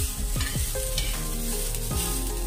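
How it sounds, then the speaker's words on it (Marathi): Ginger, garlic and onion frying in a pan for Kolhapuri misal, a steady close sizzle with several scraping stirs of a spoon across the pan near the start and again near the end. "आलं आणि लसूण टाकून घेते, ते सुद्धा चांगलं फ्राय करून घेऊया आपण"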